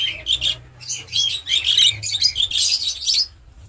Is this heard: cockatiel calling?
yes